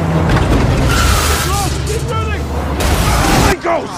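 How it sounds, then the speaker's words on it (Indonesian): Driverless cars crash and skid through a chaotic city street in a film scene, loud tire squeals and impacts layered over a dense roar, with a voice talking over part of it. "banyak mobil tanpa pengemudi bertabrakan di sekitar mereka"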